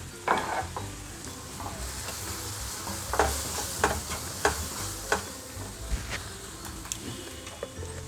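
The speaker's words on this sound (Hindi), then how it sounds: "अब इन सभी को भूनने के लिए हम थोड़ा सा पानी डालते हैं ताकि मसाला अच्छे से भून जाए।" Spices sizzle and fry in a hot pan with a little water added, a steady crackle broken by sharp scraping and stirring clatters at irregular intervals.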